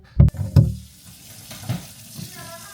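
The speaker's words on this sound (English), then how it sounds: "Of course, we wash our hands first." Water runs from a kitchen tap as hands are washed, with two hollow knocks at the start and then a low, steady trickle, fairly quiet and close.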